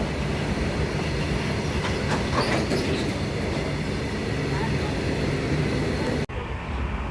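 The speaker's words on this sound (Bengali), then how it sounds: "এই দেখুন ট্রেনটা আসছে।" A train pulls into a station with a steady rumble and faint clatter of wheels on rails, fairly close and continuous, ending with an abrupt cut.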